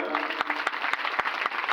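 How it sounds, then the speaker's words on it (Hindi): An audience claps steadily at a Shrimad Bhagwat Katha religious gathering held under a tent pavilion in a residential colony, with sharp individual claps standing out over the continuous applause. "टेंट, तंबू, पंडाल पूरा लगाया सुरेश जी ने, इनके लिए भी ताली बजाओ"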